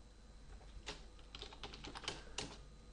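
Computer keyboard typing, a handful of quick irregular key clicks, fairly close but quiet, with no talking.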